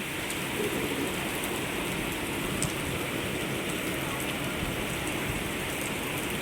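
Heavy, steady black-rainstorm rain in Hong Kong pours down without a break, a dense hiss of drops drumming on surfaces, loud and close throughout with no voices.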